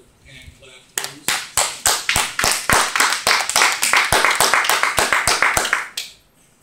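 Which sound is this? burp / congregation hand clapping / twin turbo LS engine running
congregation hand clapping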